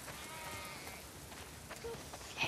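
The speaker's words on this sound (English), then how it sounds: "We definitely have way too many sheep." Sheep bleat faintly on a farm in the video game The Last of Us Part 2, a few thin wavering cries over a quiet ambient background, no talking.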